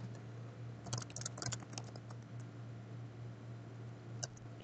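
Short bursts of clicky keystrokes on a computer keyboard as a database name is typed, quiet and close against a steady electrical hum, with a last tap near the end.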